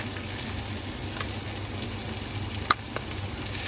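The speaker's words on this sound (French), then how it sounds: "Et là, je fais revenir mon oignon comme ceci" Onion sautéing in a pan for a creamy coquillettes and lardons dish, a steady soft sizzle throughout with a few faint clicks of utensil contact, close and alone without talk.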